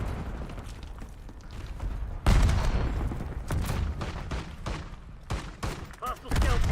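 Video game gunfire crackles in scattered shots and short bursts, with a heavy blast near the middle, mixed with game noise and occasional voices.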